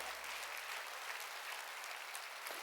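Congregation applause at an outdoor mountain revival service of a Korean church, a dense steady wash of clapping from a large crowd, fairly faint and distant, sustained throughout with no talking over it.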